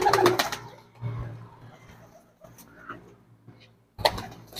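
Racing pigeons coo softly in a loft during training, low murmuring calls scattered through the quiet, with a couple of louder rustling bursts at the start and end.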